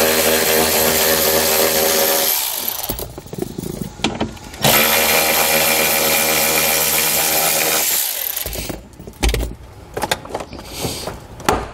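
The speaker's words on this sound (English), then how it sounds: "We're going to take a 5/16 socket. We're going to remove the two bolts holding our lower panel on" A power tool with a 5/16 socket spins out sill plate bolts on a 2016 Volvo XC90, two loud whirring bursts with clicks and rattles between and after them.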